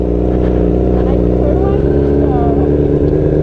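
A motorcycle creeps forward as the clutch is slowly released, its engine a loud, steady idle-level rumble with faint rising pitch sweeps, heard up close.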